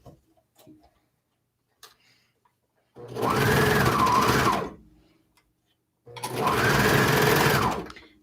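A sewing machine stitches gathered fabric in two long steady bursts of rapid mechanical whirring, each about one and a half seconds, separated by a pause with faint handling clicks.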